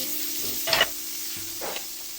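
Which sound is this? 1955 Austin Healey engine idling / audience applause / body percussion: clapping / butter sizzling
butter sizzling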